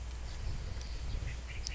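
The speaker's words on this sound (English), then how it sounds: "Sounds of the birds seem to fill the woods" Birds calling in a wooded area of a horror video game: a brief, fairly faint stretch of ambience with a few scattered chirps and a duck-like call over a low steady background.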